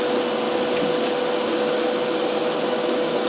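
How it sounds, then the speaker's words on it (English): A single powerful exhaust fan on a new hobby paint booth for scale model cars runs as a loud, steady whooshing drone with a faint tonal hum, nothing else heard. "This is a pretty powerful fan."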